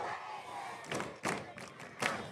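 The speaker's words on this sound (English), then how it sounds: "The Raider fans are cheering, "Let's go Raiders."" Fans at a high school football game shout and cheer from a distance in faint, rhythmic surges, like a repeated chant with three or four swells.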